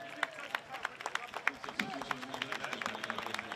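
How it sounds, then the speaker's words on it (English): A stadium crowd at a Big Ten men's soccer match between Northwestern and UCLA claps for a player being substituted off. The clapping is sparse and scattered, and a commentator talks over it. "Radoviz gets a worthy applause as he heads to the bench in the 78th minute"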